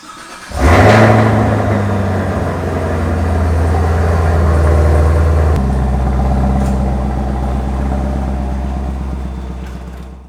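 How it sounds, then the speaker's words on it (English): A 2018 Chevrolet Camaro ZL1 cold starts up close: a brief crank catches into a loud, deep roar, then settles into a steady, rumbling high idle that drops slightly a few seconds later, with no voices. "But first, I think we need a cold start."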